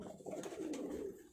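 Ferozepur and Rampur pigeons give a single short, soft cooing call, faint and close.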